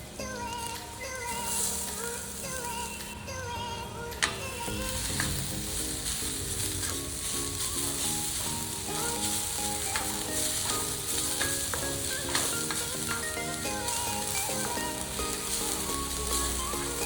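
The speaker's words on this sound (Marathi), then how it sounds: "बटर थोडंसं मेल्ट झालं की आपण इथे टाकणार आहोत खोबरं" Grated coconut frying in melted butter in a kadhai for coconut barfi, a steady close sizzle with soft stirring scrapes running throughout, no voices.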